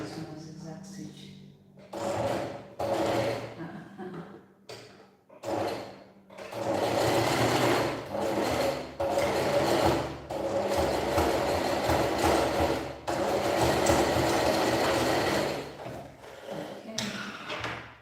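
A sewing machine runs a zigzag stitch in repeated bursts of varying length, close and fairly loud, with someone talking over much of the sewing.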